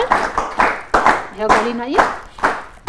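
Students receive applause in a classroom, bursts of clapping that mix with a voice and other speech.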